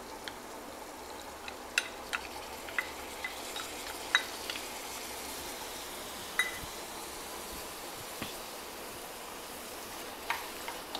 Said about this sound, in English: Now we have to mix the curd and the red chili powder until the curd disappears into the gravy